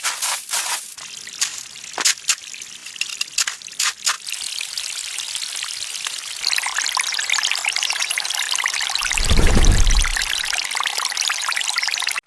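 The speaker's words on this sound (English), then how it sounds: "Build a modern gabion rock water fountain adorned with vibrant flowers." Water trickles and pours through a modern gabion rock garden fountain, starting as scattered splashes and drips, then settling into a steady stream, with a brief deeper rumble of rushing water near the end.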